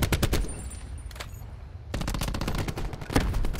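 Automatic weapon fire in Call of Duty Black Ops 4 Hardpoint league play, rapid bursts of gunshots that pause briefly and then resume, loud and close with no talking.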